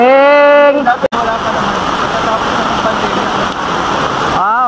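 A dense, loud roar of heavy rain pours down steadily beside the flooded Marikina River, a continuous wash of noise after a person talks briefly at the start.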